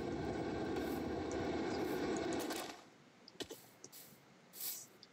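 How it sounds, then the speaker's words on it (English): Helicopter in a Minecraft modpack gives a loud, steady engine drone and rotor roar for about three seconds, then cuts off abruptly, leaving a few faint clicks and soft thumps with no talking. "Someone else is boarding that helicopter."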